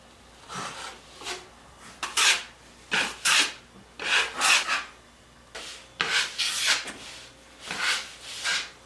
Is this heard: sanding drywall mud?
yes